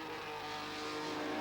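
A Thundersaloons race car at Brands Hatch in 1987, with a V6 engine developed from the Ford twin-cam V6, gives a continuous, moderately loud engine roar that rises slightly, with no speech over it.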